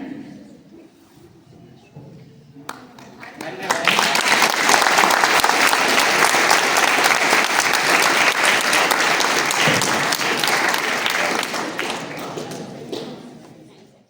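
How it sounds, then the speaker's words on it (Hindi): After a moment of quieter talk, a large crowd at a college Republic Day cultural event bursts into loud, sustained applause that carries on for about ten seconds before tapering slightly. "आप सबकी तालियों की गूंज ही काफी"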